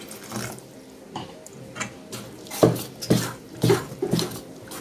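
Water is poured into semolina dhokla batter, with a few short splashes and soft clinks of a utensil against the bowl, close and moderately loud, and no talking.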